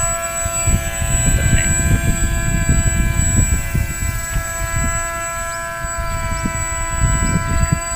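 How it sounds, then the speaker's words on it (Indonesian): The engine of a DIY RC airboat fitted with an exhaust gives a steady, plane-like buzzing hum. It sounds at a moderate distance under continuous wind noise and low rumble, holding fairly even throughout. "Dan ini dia pakai knalpot juga ya, sekalipun airboat tapi suaranya mirip pesawat juga sih."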